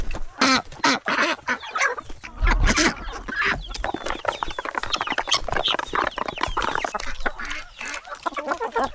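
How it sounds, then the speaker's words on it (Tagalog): Six turkeys on a small farm in the Philippines, with busy overlapping gobbles, clucks and squawks from nearby birds throughout, loud and continuous. "meron tayong 6 na pabo"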